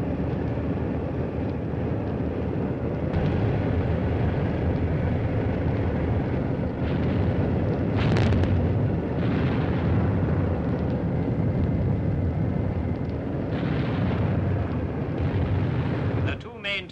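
Bombs dropped by Lincoln bombers exploding over jungle hiding communist camps: a loud, continuous heavy rumble with several stronger blasts breaking through, filling the whole stretch without pause.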